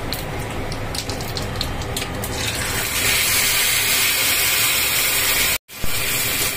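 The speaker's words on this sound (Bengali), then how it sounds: "আদা বাটাটা ভালো করে ভেজে নিচ্ছি।" Ginger paste sizzling and frying in hot oil with tempering spices, a steady loud hiss that swells slightly partway through and cuts out for a moment near the end.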